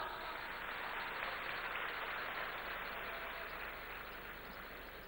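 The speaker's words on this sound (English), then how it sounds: "A big round of applause." A large crowd roars with dense, sustained applause at a big evening event in India honoring football legend Pele, a steady wash of clapping and cheering that holds at full strength before easing slightly.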